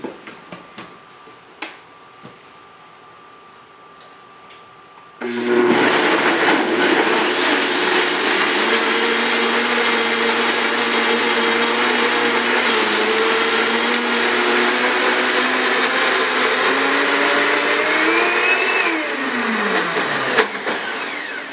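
A Blendtec blender mixing three whole eggs into sweet potato brownie batter, a few light clicks then a sudden loud, steady motor whir that lasts over fifteen seconds, its pitch shifting before winding down.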